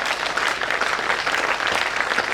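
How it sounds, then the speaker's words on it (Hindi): A crowd at a Rajasthani poetry recital claps in honour of their parents, producing loud, dense, continuous applause that fills the whole stretch without a break. "दोनों हाथ हवा में उठाएं और अपने माता पिता के सम्मान में जोरदार तालियां बजाएं।"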